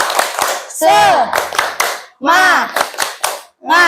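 A class of children does a rhythmic cheer clap, bursts of sharp hand claps alternating with loud shouted chanting voices, close and energetic.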